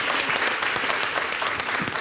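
A studio audience on a French-language TV program claps loudly and densely, a sustained round of applause filling the whole short stretch.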